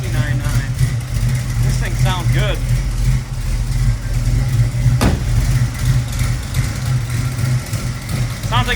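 A 1966 Chevy Nova with a built small-block V8, headers and a small exhaust leak idles with a deep, steady, loud rumble throughout, while a person speaks over it.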